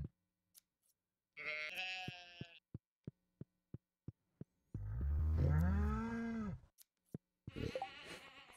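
Several goat bleats from Stardew Valley, a wavering harmonic cry near the start and a longer rising-falling bleat midway, with a run of short evenly spaced clicks between them and another brief bleat at the end.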